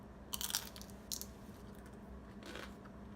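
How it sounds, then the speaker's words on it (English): Crunchy seasoned snacks fresh from a Ninja Foodi air fryer bitten and chewed up close, three separate crisp crunching bursts with short quiet gaps between them and no talking. "Listen to the crunch."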